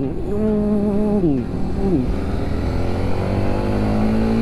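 A Honda CB150R motorcycle engine (2021) revs loudly up to a high whine, drops, revs briefly again, then settles into a steady deep drone.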